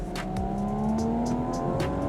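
A 2021 Audi S5 Sportback engine revs, its tone rising and falling in a brief, moderately loud burst with no talk.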